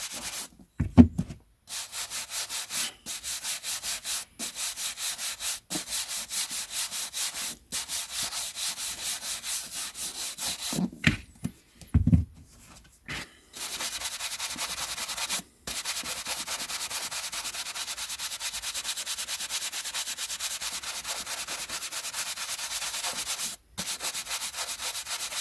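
Paperback books being polished in steady rubbing passes, a continuous close dry swishing with short pauses between strokes and two soft knocks early on; no talking.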